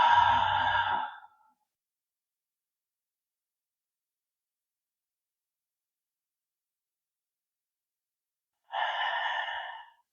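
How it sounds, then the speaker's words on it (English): Slow, deep yoga breaths drawn in and out through the nose: a long airy exhale at the start, several seconds of silence, then another full breath near the end, close and clear. "Deeply breathing in and out through the nostrils."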